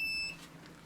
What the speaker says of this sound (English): And I don't mean that beep of it starting.